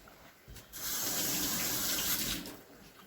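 Running tap water splashes over a potato being rinsed in a kitchen sink, a steady close hiss of flowing water that swells for about two seconds before easing off.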